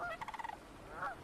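Sandhill cranes call at a beaver pond, one short rolling, rattling bugle of quick pulses followed by a second softer call, heard faintly and briefly with no voices.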